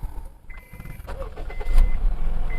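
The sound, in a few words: used car engine starting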